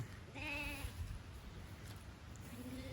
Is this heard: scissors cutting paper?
no